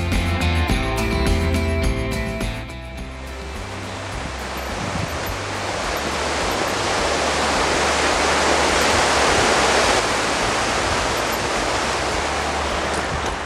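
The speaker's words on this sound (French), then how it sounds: "Le son sur le pont est assourdissant. C'est tellement bruyant, la rivière, la force du courant." A loud river current roars under a bridge on the Véloroute des Bleuets cycling route in Quebec. After a few seconds of music, a dense, deafening rush fills the rest, close and constant.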